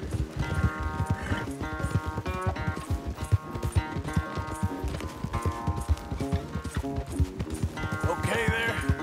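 Horses gallop in a race through Red Dead Redemption 2, hooves clip-clopping steadily under a bed of game music, with a brief whinny near the end.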